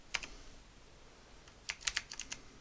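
Code being typed on a computer keyboard during game programming in Unity: a few quiet, close key clicks, a pause, then a quick cluster of taps.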